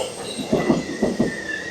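A K rail train passes by in Korea, its wheels beating out a few rhythmic clickety-clack thumps over the rails beneath a thin, sustained metallic squeal and steady rumble, fairly close.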